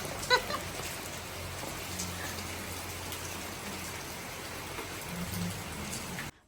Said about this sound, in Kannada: ಇದೇ ಜೋರು ಮಳೆ ಗೈಸ್ ನಮ್ಮ ಚಂದ್ರಾಪುರದಲ್ಲಿ ಇಷ್ಟೇ ಮಳೆ ಬರೋದು